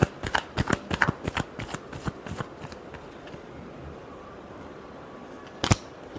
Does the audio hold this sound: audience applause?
no